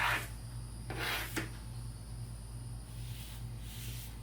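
A paintbrush strokes lightly over faux wood paint on a laminate countertop, giving a few soft swishing rubs early on and fainter ones near the end, over a low steady hum.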